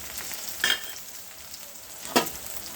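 Eggplant curry ingredients sauté in hot oil, a steady low sizzle with two brief louder bursts of stirring, close by with no voices.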